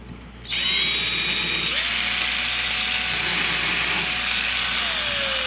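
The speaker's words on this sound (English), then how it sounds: "now we're ready to drill" A power drill whirs up loudly after a brief pause and runs steadily at high speed, its pitch shifting slightly as it bites into material.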